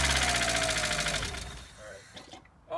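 A $200 scrapyard Mazda Miata engine running with a steady buzzing drone for about a second and a half, then cutting out to near quiet with a few faint knocks.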